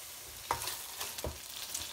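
Grated juicy tomatoes cooking over a slow flame for a rajma and black urad dal gravy, giving a soft, steady sizzle with a few light stirring scrapes, close by and alone.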